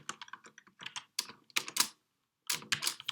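Fingers type on a computer keyboard in quick irregular clusters of clicky keystrokes, close and crisp, with one short pause partway through and no voice.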